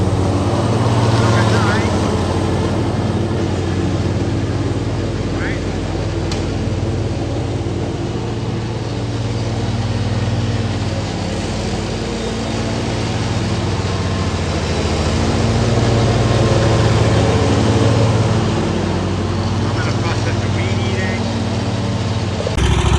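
A lawn mower drones steadily through a backyard during a double mow, a loud continuous engine hum with slight swells in pitch and load, running the whole time.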